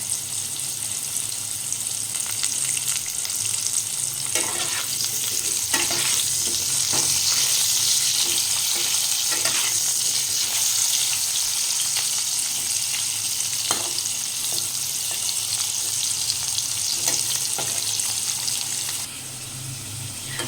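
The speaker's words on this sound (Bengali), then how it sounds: "আলুগুলো ভাজার সময় দিয়ে দিচ্ছি 1/2 চামচ লবণ।" Loud, continuous sizzling of potatoes frying in oil with half a spoon of salt added, punctuated by occasional scrapes and knocks of stirring, easing slightly at the end.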